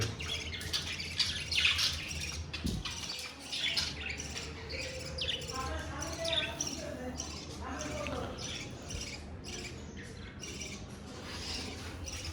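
Budgerigars chirp and squawk repeatedly in a lively, overlapping chorus at a rooftop breeding setup, fairly close, with a voice talking intermittently underneath.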